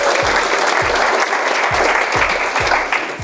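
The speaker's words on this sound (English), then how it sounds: "Let's give an applause, guys." An indoor audience gives a burst of dense, steady clapping that lasts a few seconds and tapers slightly at the end.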